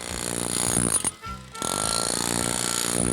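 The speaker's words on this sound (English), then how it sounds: "Once all the big pieces are out, they go at it with a power chisel." Power chisel cleaning out a notch in a log for a log home, a loud, harsh, rapid mechanical rattle that stops briefly before resuming and running steadily.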